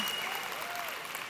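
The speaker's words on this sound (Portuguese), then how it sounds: "Ué, cadê o aplauso agora das mulheres?" Brief, steady applause from women in a church audience, a dense even patter of clapping that fills the short moment without pause.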